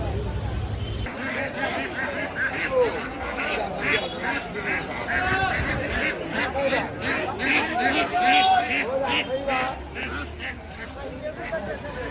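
Ducks quacking repeatedly at a busy rural poultry market, nearby calls rising over a constant crowd babble and chatter of people talking throughout.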